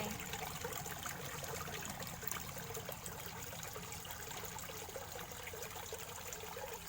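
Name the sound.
flowing water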